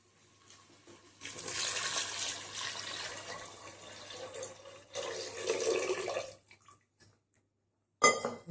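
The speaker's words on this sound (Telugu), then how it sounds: "ఇప్పుడు మనం వాటర్ పోసుకుందాం" Water pours steadily from a glass into a cooking pot for khichdi, a rushing splash lasting several seconds, then a shorter second pour before tapering off, ending with a brief clink.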